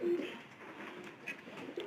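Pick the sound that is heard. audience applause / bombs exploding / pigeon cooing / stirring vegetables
pigeon cooing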